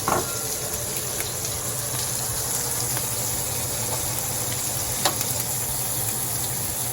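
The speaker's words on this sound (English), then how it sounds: "Again, we're not cooking the shrimp all the way. We're just searing them off." Shrimp searing in a hot pan for Spanish paella give off a steady, fairly loud sizzle with occasional sharp pops and crackles, and no one speaks over it.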